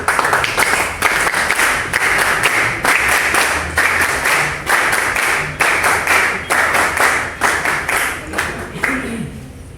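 An audience at a party fraternity-day gathering in San Borja gives a former congressman a long, loud round of applause, dense clapping in rhythmic surges for nearly ten seconds before tapering off.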